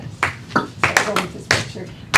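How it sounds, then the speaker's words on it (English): Several sharp hand claps land in an uneven, slowish rhythm, close and fairly loud, with a faint voice murmuring underneath. "Let's clap."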